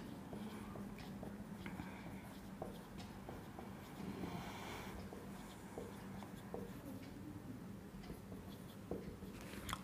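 Steady scratching of chalk or marker across a board during a maths class, a continuous scraping texture with small taps, fairly close with faint room noise and no talk.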